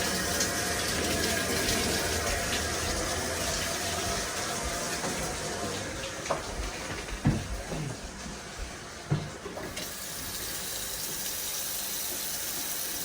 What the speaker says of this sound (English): We're going to go to each faucet, open them up, and let them flush.